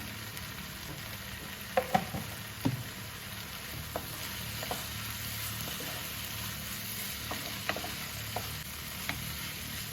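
Sweetcorn sandwich filling with chili powder frying in a pan, a steady low sizzle under occasional sharp spoon scrapes and taps, close and without voices.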